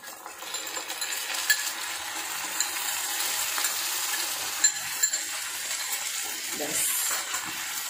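Chicken, onion and capsicum fry in a pan as a mixed sauce is poured in, giving a steady bright sizzle with a few scattered utensil clinks and stirring scrapes throughout.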